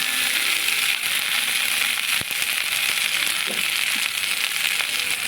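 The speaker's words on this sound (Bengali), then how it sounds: "এবার আলু পটল একসঙ্গে ভালো করে ভেজে নেব" Sliced potato and pointed gourd fry together in hot oil in a kitchen pan, giving a steady loud sizzle with fine crackles and a few faint clinks throughout.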